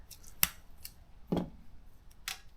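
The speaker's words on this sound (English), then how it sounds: "I'm going to pull the tape loose. Pull the tape out." Tape is pulled loose from a roll while wiring is routed during a solid axle swap on a Toyota Tacoma, heard as three short dry ripping bursts, one sharp snap, a longer tear, then a softer pull, in a quiet space.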